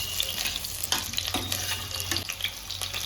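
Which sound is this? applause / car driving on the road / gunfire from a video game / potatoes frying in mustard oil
potatoes frying in mustard oil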